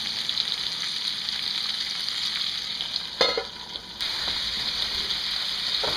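Potatoes frying in butter in a pan, a steady bright sizzle with a short burst of stirring and scraping partway through before the even hiss resumes, close and alone.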